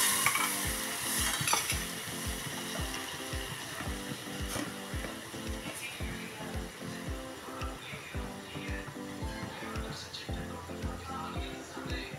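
Hot tempering is poured into sambar and stirred, giving a busy sizzle with rapid rhythmic clinks and scrapes of utensils against the pot, while a voice talks over it.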